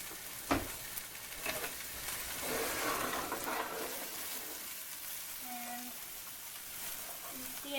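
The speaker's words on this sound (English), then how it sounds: "the hot pan with the oil. I'm going to cook these down for a little bit." Onions fry in hot oil in a pan, a steady close sizzle with occasional stirring scrapes and a few faint clinks, filling the whole stretch.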